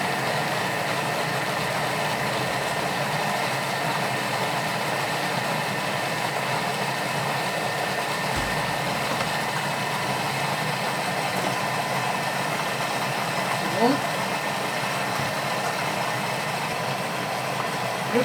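Kitchen food processor running at speed 5 with salmon and apple sauce being prepared, a loud steady motor drone holding an even level throughout, with no talk.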